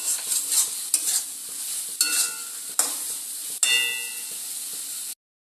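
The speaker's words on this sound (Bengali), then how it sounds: "এই মশলার সঙ্গে খুব সুন্দরভাবে কষিয়ে নিতে হবে।" Prawns and taro flower with spices stir-fry in a pan, a soft steady sizzle broken by a few sharp clinks and scrapes of the spatula against the metal.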